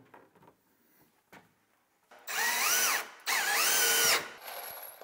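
A cordless power drill drives screws while kitchen cabinets are installed in a barndominium build, two loud whirring runs with rising and falling pitch after a few quiet knocks and handling sounds.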